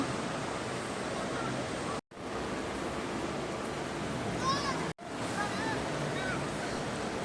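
Waves rolling through an aquapark wave pool at the Sanremo water park, a steady broadband wash of surging water with brief breaks, faint splashes and distant bright voices over it.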